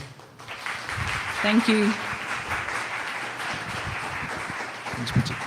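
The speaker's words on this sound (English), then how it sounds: "Let's give Pritika a round of applause" An audience applauds a speaker at a marketing talk, with steady clapping that fills the room and lasts several seconds while a voice briefly speaks over it.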